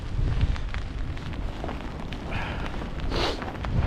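Steady wind rushing and buffeting against the microphone outdoors in the Yorkshire Dales, a constant low roar throughout.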